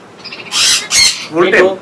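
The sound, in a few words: pet talking bird squawking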